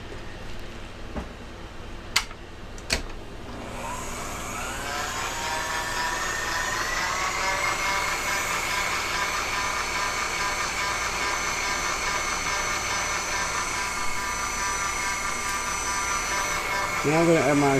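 An electric stand mixer beating butter, sugar and egg for lemon cupcakes, starting after a couple of sharp clicks and settling into a steady, close, whirring motor drone that holds for many seconds before a brief change near the end.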